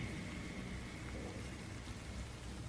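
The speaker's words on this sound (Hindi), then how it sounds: "जंगल में तेज बारिश हो रही थी, हर तरफ पानी की मोटी मोटी बूंदें गिर रही थीं।" Steady, dense rainfall hisses evenly, a continuous wash of falling water with a faint low rumble underneath.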